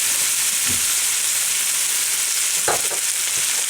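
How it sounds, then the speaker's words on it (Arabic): Onion and chili pepper frying in hot oil for eggplant moussaka, a steady loud sizzle throughout with a few brief stirring clatters near the middle and end. "احط الزيت، بعد كده البصل، في نفس الوقت احط الفلفل الشطه"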